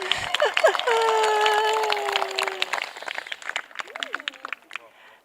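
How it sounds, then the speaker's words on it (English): Wedding guests at a ceremony clap together in a sustained round of applause. The crowd's clapping is loud and even at first, then thins into scattered claps, over a steady tonal hum. "Round of applause, everyone."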